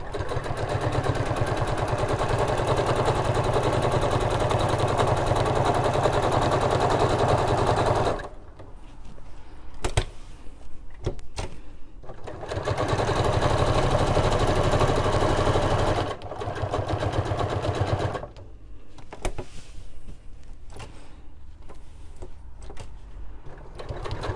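Sewing machine running in long bursts while free-motion quilting a cushion cover around a bird's tail motif, steady close whirring that stops and restarts with short pauses and small clicks between runs.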